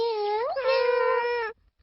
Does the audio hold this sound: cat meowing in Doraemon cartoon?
yes